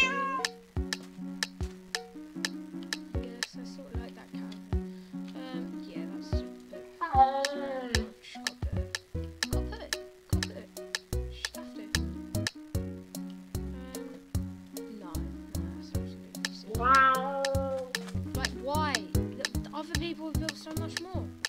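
A Minecraft cat meows twice, well apart, each a short rising-and-falling call heard over steady, plucky game music.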